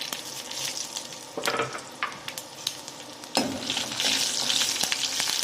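Oil sizzles steadily as green chilies fry in a pan for dal tadka, with scraping stirs and clinks of a utensil, the sizzle swelling louder toward the end.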